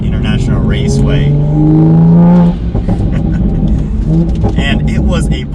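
A 2020 Toyota Supra A90 drives a twisty road, its engine droning and rising in pitch as it accelerates, then easing off, heard from inside the car under a voice.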